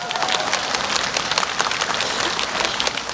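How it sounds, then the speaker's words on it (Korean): Loud, dense applause from a large outdoor audience in Duryu Park in the evening at a Buddhist dharma talk, many hands clapping continuously and close, with no speech over it. "달님에게 박수."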